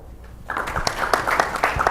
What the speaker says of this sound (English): Just clap